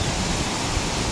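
The Dahoyhoy waterfall in Mauban, Quezon roars with a steady, dense rush of falling water, close and even throughout, with no talking.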